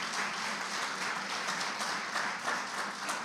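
A church congregation applauds at a worship service, steady clapping from many hands filling the room at moderate level, with no talk over it.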